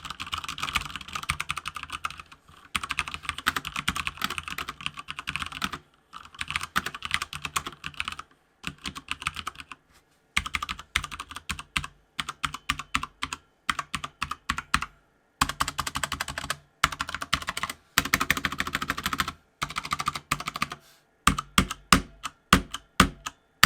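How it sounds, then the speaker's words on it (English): Typing on a Fnatic MiniStreak tenkeyless keyboard fitted with Cherry MX Brown switches, close and crisp: bursts of rapid key clacks separated by brief silent pauses, with no talk. "I went with my favorite, the Cherry MX brown, and they sound and feel so nice."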